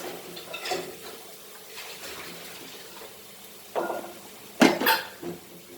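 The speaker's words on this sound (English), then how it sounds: "Mix this nicely." A utensil stirs and mixes mushroom stuffing with a little added water, giving soft intermittent scraping and wet stirring sounds close by, with two louder clattering scrapes near the end.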